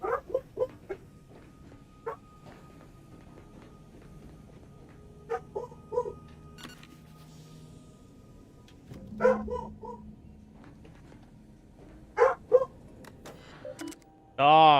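Dogs bark in short separate bursts, some in quick doubles, against a quiet indoor background, with one louder burst at the close.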